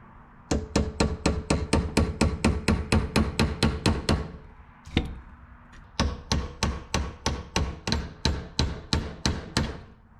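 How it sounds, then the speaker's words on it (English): Repeated hammer blows on a rivet in a Corvair van wing window, struck in a steady rapid series of about fifteen close, loud metallic hits, a brief pause with a single knock, then another even run of strikes. "put the rivet in, and I'm going to hammer on it sideways"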